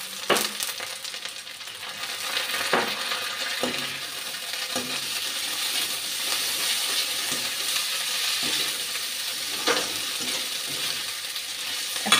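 Bay leaf, onion, green chili and ginger paste fry in hot oil for murighonto, a steady close sizzle broken by periodic clinks and scrapes of a spatula stirring the pan, without speech.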